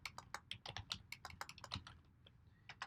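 A computer keyboard is typed on in quick, uneven bursts. The keystrokes are close and distinct and continue steadily with no talk.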